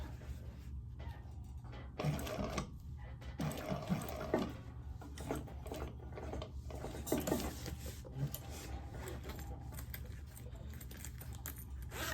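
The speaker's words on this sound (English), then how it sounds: "Sometimes I press on my foot pedal the wrong way and I stitch when I don't want to" A foot-pedal sewing machine stitches in short and longer bursts, the motor whirring steadily at moderate loudness with a few light clicks and handling knocks between runs.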